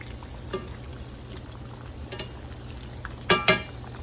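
Green tomato slices fry quietly in a pan with a soft, steady sizzle, broken by a few brief utensil clicks and a pair of sharper clatters near the end.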